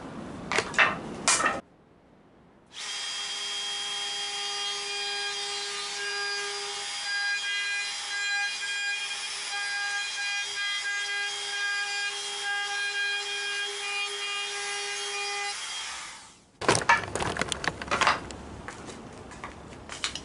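A router cutting through wood for an Adirondack chair, a loud steady high-pitched whine lasting about fourteen seconds, close by, with brief bursts of clattering workshop handling before and after.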